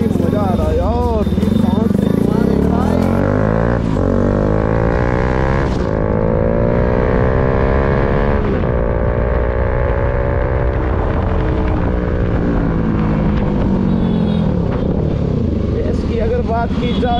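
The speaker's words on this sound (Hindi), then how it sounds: "क्या साउंड आ रहा है ना अभी आर एस का" A TVS Apache RS motorcycle engine drones loudly and continuously on a street ride, rising and falling in pitch through gear changes, with a rider talking over it and wind noise throughout.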